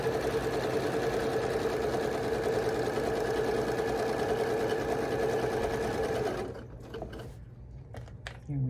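A sewing machine runs steadily and loudly while stitching a pillowcase, then stops abruptly near the end, leaving a few faint clicks and handling sounds.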